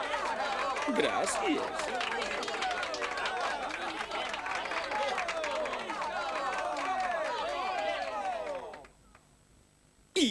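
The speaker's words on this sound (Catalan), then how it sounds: "bé, ja podeu aplaudir i aclamar." A large crowd of court subjects applauds and cheers in a dense, continuous wash of clapping and voices that holds steady for several seconds, then drops away abruptly near the end, where a single voice speaks briefly.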